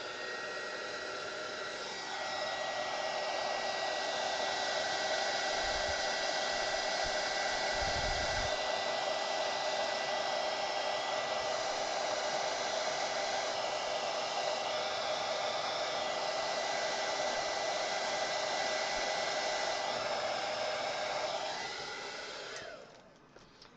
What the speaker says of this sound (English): I try to heat it up with a heater. Well, an embossing tool.